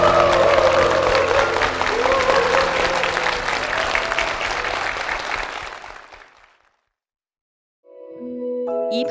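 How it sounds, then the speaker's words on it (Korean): A church congregation applauds in a full, continuous round with some cheering, fading out to silence before a tonal chime-like sound begins. "주님께 영광의 박수를 드리겠습니다"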